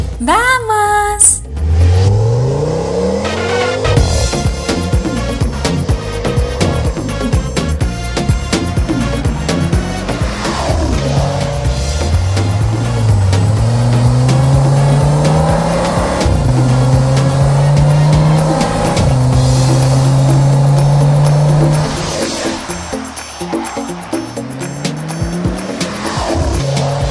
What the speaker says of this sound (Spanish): Arranco el coche. ¡Wow! ¡Qué sonido temible!